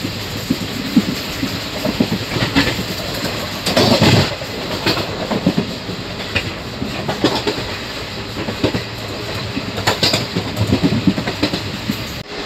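A passenger train runs flat out at about 110 km/h through Attabira railway station, a continuous loud rumble with rhythmic clickety-clack over the rail joints and bursts of heavier clatter, heard from on board with no talking.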